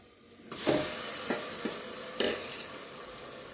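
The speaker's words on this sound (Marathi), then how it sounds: "कांदा फ्राय झाल्यानंतर मटन टाकायचं। हलवून घ्यायचं।" Mutton is added to fried onions in a pot and sizzles loudly, with a steady hiss carrying a few sharp stirring scrapes and clatters against the pot, heard close.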